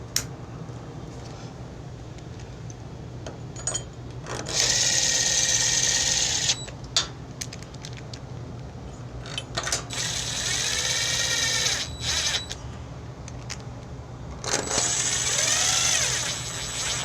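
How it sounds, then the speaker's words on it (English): Cordless power drill or impact driver running bolts down on a Craftsman riding mower engine, three loud whirring bursts of a few seconds each, close up, with quieter workshop clatter between them. "I'm not tightening them, I'm just running them down."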